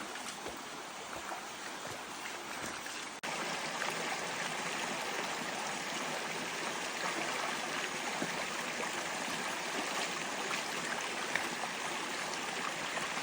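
A mountain river on Mt. Guiting-Guiting rushes along in a continuous, close broadband wash. The flow swells louder after a few seconds and then holds steady, with no one talking.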